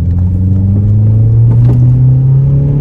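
A 1999 Toyota Camry engine pulling under acceleration while driving, a loud steady low rumble with the pitch climbing gradually as revs rise, heard from inside the car with no talk.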